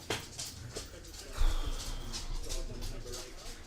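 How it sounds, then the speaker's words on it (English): Several dogs in a room make restless barks and whimpers that come and go in the background, with some movement and a low rumble of room noise. "trying to get these dogs to shut up as well"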